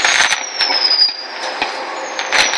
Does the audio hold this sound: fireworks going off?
yes